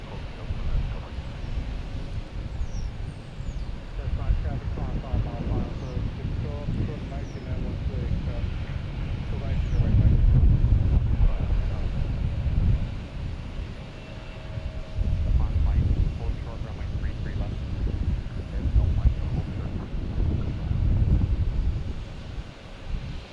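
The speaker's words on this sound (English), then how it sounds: "We got JetBlue here, an A321neo LR heading to London, Heathrow Airport." A JetBlue Airbus A321neo LR jet airliner at Boston Logan Airport, heading to London Heathrow, gives a steady, broad engine roar that swells and eases over the span, with wind buffeting the microphone throughout.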